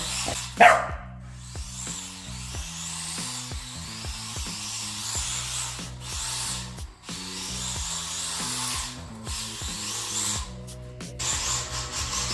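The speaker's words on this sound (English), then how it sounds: "Crazy young dog." A young dog barks a few times near a brushless R34 Skyline RC drift car, sharp yelps cutting over the steady whirring and tonal whine of the model's motor.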